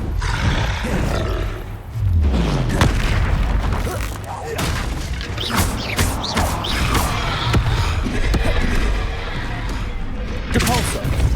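Confringo blasting spells explode one after another in Hogwarts Legacy, loud booming bursts over a dense, continuous game-combat din, with heavy low rumble throughout and sharper cracks around two and eleven seconds.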